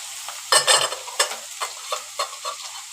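Ginger garlic paste hits a hot pan while cooking prawn malai curry, setting off a loud sizzling burst, then a series of shorter spaced crackles and stirring scrapes that fade gradually, with no talking.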